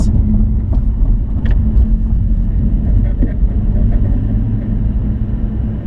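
A car rolls gently through the Carousel banked corner of the Nürburgring Nordschleife during a Touristenfahrten lap under yellow flags, its engine a steady low rumble heard from inside the cabin with faint road and tyre noise.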